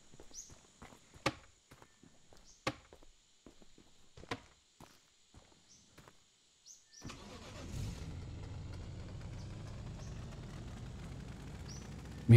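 A slow car's engine in the video game Poly Roam, starting around seven seconds in after a stretch of quiet footsteps and clicks, then droning steadily at moderate loudness to the end.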